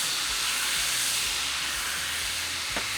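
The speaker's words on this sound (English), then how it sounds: "I'm going to deglaze it." Wine deglazes a hot frying pan after frying pork, giving a loud, steady sizzling hiss that continues without a break for a few seconds.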